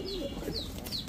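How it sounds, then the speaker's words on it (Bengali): A pair of black Babra pigeons, with brief soft cooing and faint chirps close by during a short moment. "ছাড়াছাড়ি করা এক জোড়া বাবরা কবুতর"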